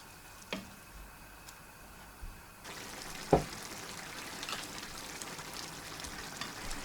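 Onions stew in a pot with a quiet, steady sizzle that grows fuller partway through, along with a few soft clicks and taps up close.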